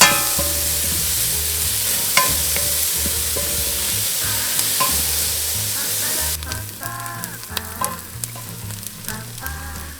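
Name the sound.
stirring onions frying in a pan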